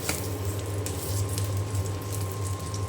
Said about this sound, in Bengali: এখানে যে ডিম ভেজে নিচ্ছি বেশি করে মরিচ দিয়েছি